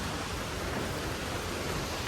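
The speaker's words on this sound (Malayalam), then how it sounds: "മഴയുണ്ട്." Rain falls in a forest near Mankayam waterfalls, a faint, even hiss of broadband noise with no distinct drops or voices.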